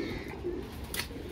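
Soft, low pigeon cooing close by, with a brief higher chirp near the end over faint background noise, from a group including an injured pigeon.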